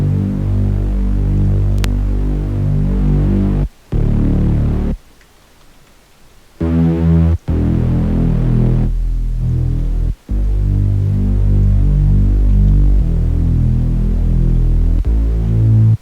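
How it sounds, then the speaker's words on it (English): A hip-hop style Reese bass synth, wide in the mid-range, plays a loud sustained throbbing low tone with steady harmonics, broken by short gaps and a brief quieter stretch near the middle, with no talking. "That's the hip-hop style of the Reese bass."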